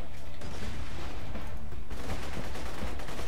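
Rapid, dense gunfire from Borderlands 2, loud continuous automatic bursts that barely pause, close up and with no speech over it.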